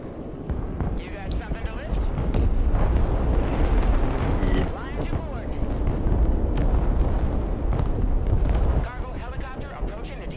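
A building bombed in the combat game Broken Arrow, a sustained heavy roaring blast rumble that swells and holds for several seconds, loud and dense, with radio-style chatter mixed underneath.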